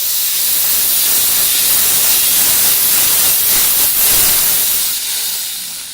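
A Chief steam cleaner hisses steadily while lifting tree sap off a surface, a loud, continuous broadband rush that holds nearly constant for several seconds before easing slightly near the end.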